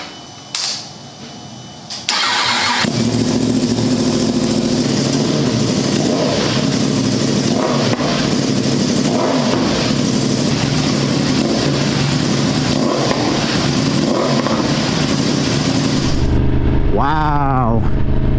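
A 2020-or-newer Yamaha R1 with an M4 mid pipe exhaust fires up and idles loud and close, a deep rumbling roar that holds steady for many seconds before a sharp rising rev near the end, with talk faintly underneath.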